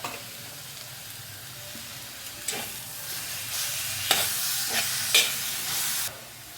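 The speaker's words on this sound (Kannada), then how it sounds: "ಇವಾಗ ನಾವು ರುಬ್ಬಿಟ್ಕೊಂಡಿದ್ವಲ್ಲ ಬೆಳ್ಳುಳ್ಳಿ ಪೇಸ್ಟ್, ಅದನ್ನು ಹಾಕ್ತಾಯಿದ್ದೀನಿ." Ground garlic paste fries in hot oil for pav bhaji, giving a steady close sizzle that swells louder midway, with sharp bursts of crackling as it is stirred, then cuts off abruptly.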